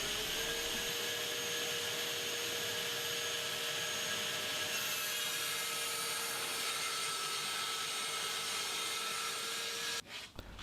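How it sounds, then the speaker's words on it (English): A saw cuts 12mm birch plywood sheet into strips in a workshop, a continuous loud whirring drone with a dust-extraction hiss, cutting off abruptly near the end. "First, I will cut off 8 strips that make the sheet more manageable."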